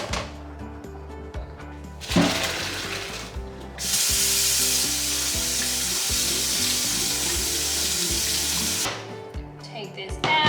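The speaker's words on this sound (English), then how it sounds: "I'm just gonna quickly wash the pasta." Freshly cooked pasta rinsed under a running kitchen tap: after some brief clatter, a loud, steady rush of water pours for about five seconds, then cuts off, with a few light knocks and clinks around it.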